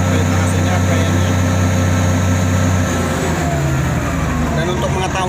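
Komatsu D85-3 bulldozer engine running steadily at mid RPM, a loud, continuous diesel drone with a strong low hum that shifts pitch slightly partway through.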